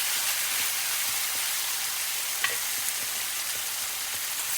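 Vegetables stir-frying in a pan for soybean chilli give a steady, even sizzle that runs the whole time, with one faint click partway through.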